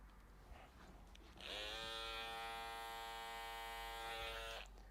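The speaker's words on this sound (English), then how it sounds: "And then at the front, just with the little trimmer" A small electric hair trimmer buzzes steadily through about three seconds of clipping at the front of a two-block haircut, starting abruptly after a quiet moment and cutting off near the end, close and fairly loud with no talking.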